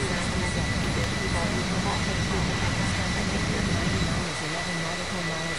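Aircraft engine in the Infinite Flight simulator game, a steady broadband drone running close and loud throughout the approach to landing, easing slightly near the end, with radio-style talk over it.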